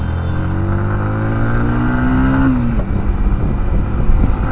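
A vehicle on a service road accelerates hard, its engine note climbing steadily in pitch and loudness before easing off into a rougher rumble, close and loud with no talking.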